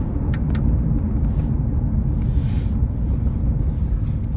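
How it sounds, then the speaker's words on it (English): Steady low road rumble of a car driving, heard from inside the cabin, with constant engine and tyre drone and faint wind noise throughout, no talking. "We're just gonna drive in silence."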